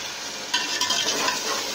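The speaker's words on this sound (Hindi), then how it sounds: "इसको इसमें हम अच्छा सा फ्राई करते हैं" Diced potatoes fry in a masala in a pan for potato rice, a steady close sizzle with a brief louder scrape of stirring partway through.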